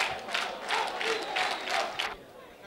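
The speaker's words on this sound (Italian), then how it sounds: "applausi a scena aperta per l'Acragas che vince e diverte" Crowd at a football match applauding and cheering in repeated swells, fairly distant and diffuse, with no clear voices over it.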